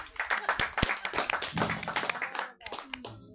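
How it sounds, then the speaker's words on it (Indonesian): An outdoor gathering of a community group at Sangga Langit, Batu Seribu, Mangunan, breaks into clapping. Irregular claps from a modest group go on for about three seconds, with voices mixed in and a short dip near the end. "Kita berikan tepuk tangan sekali lagi."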